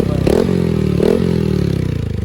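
A Honda Grom motorcycle with a cheap aftermarket exhaust idles close by with a loud, raspy, popping exhaust, blipping the throttle twice in quick succession before settling back to a rattly idle.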